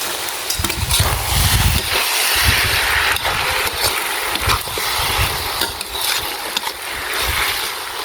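Wide rice noodles stir-fried in soy sauce for pad see ew, with a loud, constant sizzle and hiss from the pan, broken by repeated low scraping thumps of stirring close up.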